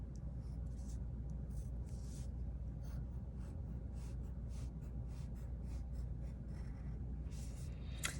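Pen scratching steadily on paper while sketching a goofy cartoon monster with a big toothy smile, a continuous close, soft scribbling with short strokes throughout, no talk.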